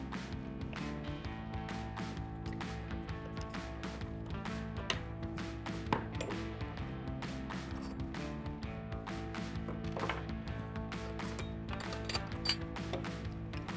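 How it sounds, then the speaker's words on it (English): The arm of a Boon Edam Turnlock 100 full-height turnstile is rotated by hand, producing a steady run of close mechanical clicks and ratcheting taps with a few sharper knocks along the way. "we'll rotate the arm around to get access to the 2mm Allen bolt"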